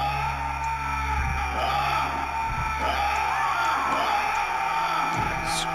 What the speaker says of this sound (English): Screams of the darned